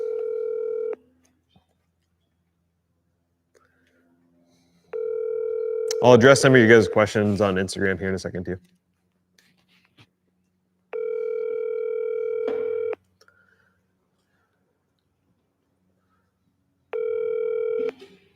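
Repeated ringback tones from an unanswered phone call, steady bursts of about two seconds separated by silences, with someone talking over one ring in the middle.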